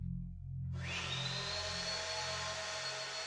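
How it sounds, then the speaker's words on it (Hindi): A neighbour's vacuum cleaner starts up late at night, a steady whining motor drone with a rising pitch that settles into a continuous hum after a low rumble, heard alone. "वैक्यूम चला रहे हैं, वो भी इतनी देर रात को"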